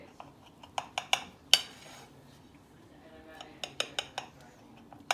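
A knife clinks and scrapes against a plate while slicing a three-ingredient chocolate cake down the middle, giving a scattered series of sharp, close ticks and taps with a brief louder scrape partway through.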